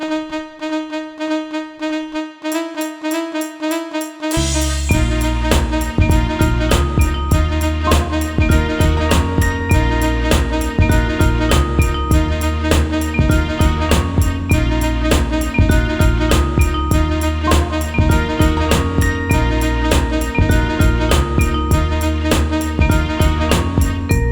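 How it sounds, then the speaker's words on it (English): A Korg 01/W sequence emulated in Logic: a sustained synth tone opens alone, then a full electronic sequence enters around five seconds with steady pulsing beats, bass and layered melodic parts, loud and continuous. "what you're going to hear next is that same sequence emulated in Logic."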